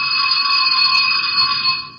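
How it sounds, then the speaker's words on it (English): An electric bell rings continuously in a radio drama, a steady, loud metallic ringing held for about two seconds before fading slightly at the end. "we'll try the bell once more"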